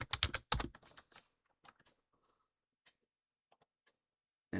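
A short flurry of quiet computer-keyboard key taps, then a few sparse isolated clicks spaced across a near-silent stretch, ending in a sudden louder sound.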